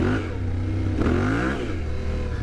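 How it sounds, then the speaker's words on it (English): Motorcycle engine given a short burst of throttle that is then chopped, a close mid-pitched rev that climbs and falls back to a rumbling idle. "Gas it and chop the throttle."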